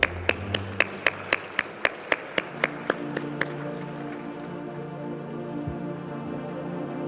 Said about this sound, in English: And political parties, another round of applause